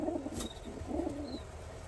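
Long Face pigeons coo in low, soft phrases with a brief pause between them, close by and steady for a couple of seconds, with faint higher chirps over a quiet background.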